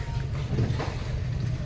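A fishing boat moves slowly across the water, giving a soft, steady low rumble with some wind. It stays close but fairly quiet, with a faint voice in the background.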